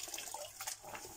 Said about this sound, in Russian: вода прекрасно вся сливается.